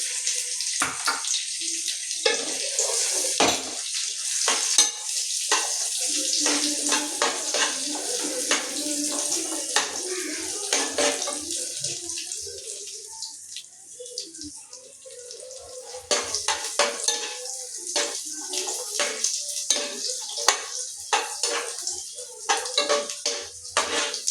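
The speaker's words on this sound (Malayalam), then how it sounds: "കിസ്മിസും കൂടെ ഇട്ട് ഒന്നിച്ച് വറുത്ത് പോകും." Vermicelli and raisins frying together in a pan for semiya payasam, with scraping, stirring clinks of utensil on metal and soft sizzling, busy and close throughout.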